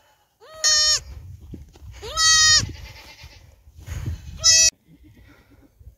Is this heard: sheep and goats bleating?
yes